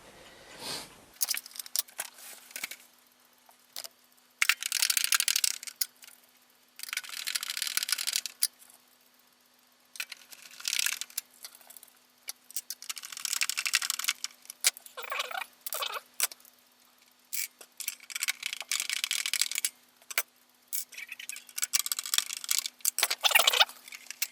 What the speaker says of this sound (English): so I'm going to put the rest of the screws in now